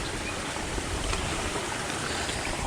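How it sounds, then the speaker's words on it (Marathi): Water spilling over the earthen bund of a flooded paddy field in the hills: a steady, dense rushing wash heard up close, with no talk. "सांडीवरून पाणी वाहत आहे"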